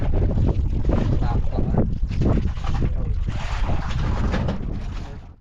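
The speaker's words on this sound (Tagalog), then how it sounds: "uwi na kami mga bay dahil humangin-hangin na. Bigla pang lumakas." Strong wind buffets the microphone in a continuous roaring rush, gusting and swelling, with water and possible muffled voices beneath.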